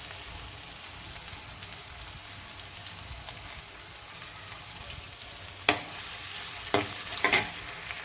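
Onion frying in fresh sweet oil on a new gas stove, a steady close crackling sizzle running throughout, with a few sharper scraping stirs near the end and no voices.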